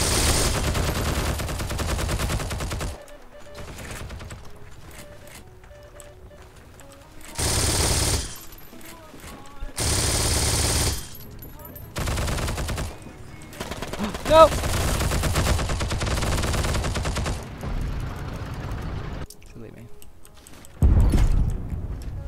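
An MG42 machine gun in Heroes and Generals fires in several rapid, loud sustained bursts separated by quieter gaps with faint background game sounds.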